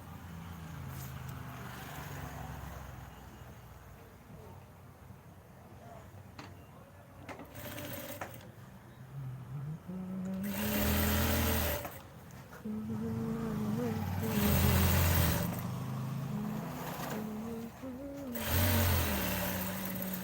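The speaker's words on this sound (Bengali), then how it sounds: "দুইটা হাতার মুখ সেলাই দিলাম তারপরে সাইডগুলো সেলাই করবো এখন" A sewing machine stitching a panjabi pocket runs in several bursts of rapid whirring, separated by quieter pauses with faint handling noises.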